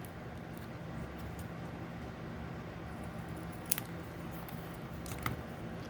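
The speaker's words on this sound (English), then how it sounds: "I'm going to use that as a guideline and cut right above it so it does not show up." Scissors cutting through card: a couple of faint, sharp snips a second or so apart over a quiet, steady room background.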